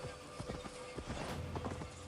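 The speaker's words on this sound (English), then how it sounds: "horses in towns can't run that fast" Horse hooves clip-clop through a town in Assassin's Creed Valhalla, a steady run of close, rhythmic hoofbeats over a faint game ambience.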